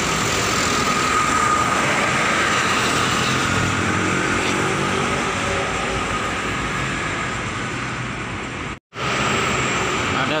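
Pasinaraya Amarta train rolling past, a loud continuous broadband rumble with a steady wheel-and-engine roar sustained throughout, briefly cut by a sharp dropout near the end.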